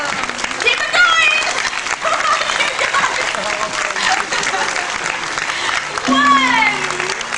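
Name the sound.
audience applause at a tiger show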